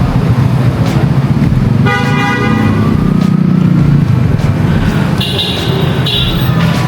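A Ford Wildtrak 4x4's horn toots a few times amid steady road and engine noise, with short bright blasts standing out over the rumble.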